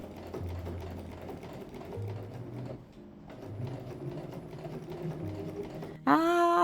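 Domestic sewing machine fitted with a walking foot quilts a large quilt, a fast rhythmic mechanical stitching chatter running steadily, briefly easing, then ending in a louder burst of different noise.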